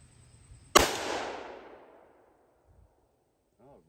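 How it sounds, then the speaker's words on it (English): A single loud rifle shot from a Finnish M39 Mosin-Nagant, a sharp crack with a long booming decay trailing off over about a second and a half, followed by quiet and a faint brief voice at the end. "This is definitely a rifle with a report."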